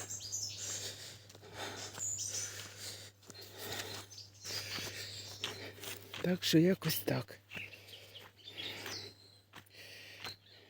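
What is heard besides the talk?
birds singing outdoors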